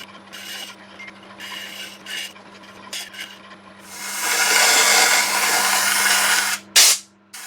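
Woodturning lathe with a turning tool hollowing a wet walnut hollow form: short scraping cuts at first, then a louder sustained rasping cut, ending with a brief sharp burst.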